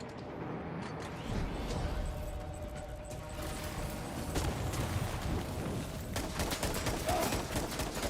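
Gunfire from a shotgun in the Death Stranding 2 video game, set in a thick, continuous barrage of blasts and crackling shots that stays loud and busy throughout, with no clear gaps.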